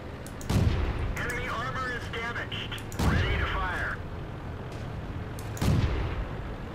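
A tank's main gun in World of Tanks fires three times, each a loud, sharp blast with a rumbling tail, spaced a few seconds apart over a steady engine drone, with brief metallic whining sounds after the first two shots.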